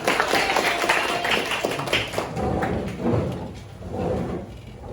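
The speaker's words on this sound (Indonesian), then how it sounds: "Oke, tepuk tangan" A school class claps hands, a continuous loud patter of many claps that swells and dips in waves, close by with some background noise of the room.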